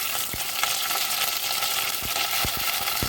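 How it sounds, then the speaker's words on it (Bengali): Flat beans hit hot oil with a dry chilli in a pan for a methi greens recipe, setting off a loud, steady sizzle with a few sharp spatula clinks and stirring scrapes throughout. "তেলটা গরম হলে সিমটা তুলে দেবো।"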